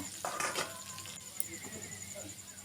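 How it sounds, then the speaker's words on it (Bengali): Potatoes and taro corms fry together in a pan, with a soft, continuous sizzle and a few brief stirring scrapes near the start. "এবার কচুরমুখীটা দিয়ে ভালোভাবে ভেজে নেব।"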